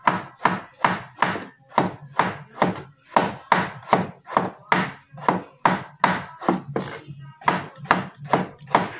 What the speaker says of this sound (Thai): หั่นแล้วก็ไปต้ม